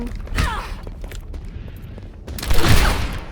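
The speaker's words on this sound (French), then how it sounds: "Ashe, elle a une sorte de carabine un peu, si vous voulez. Avec une grenade répulsive." Ashe's carbine in the Overwatch video game fires in two close bursts of gunfire with mechanical clatter between them, loud and near, with no talking.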